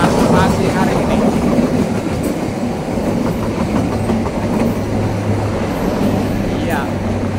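Argo Parahyangan passenger train rolling past level crossing JPL 150A in the morning, a loud steady rumble with clickety-clack of wheels on rail joints and a low continuous drone, with voices faintly underneath.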